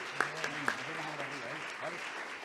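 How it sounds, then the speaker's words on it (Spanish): Church congregation applauding during a Spanish-language service, a steady wash of clapping at moderate level with voices speaking over it. "Fuertes aplausos a nuestro Dios."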